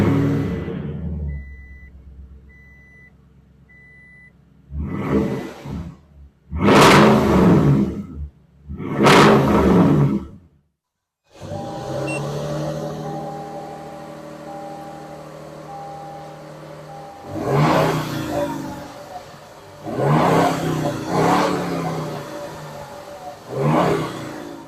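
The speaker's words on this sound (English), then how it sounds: "the V8 is always going to be a little bit more powerful sounding" Toyota Tundra TRD Pro V8 revving through dual exhaust, loud and close, a burst of sharp revs that drop to a low idle rumble before a few more throttle blips, with no speech.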